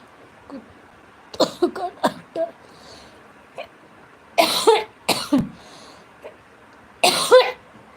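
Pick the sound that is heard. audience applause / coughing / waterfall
coughing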